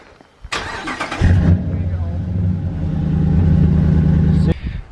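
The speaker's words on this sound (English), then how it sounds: "We gotta go for a test drive, make sure it don't fall apart on the way home" A Ram 1500 pickup truck's engine cranks and catches, then settles into a loud, steady low rumble that holds for several seconds before cutting off abruptly.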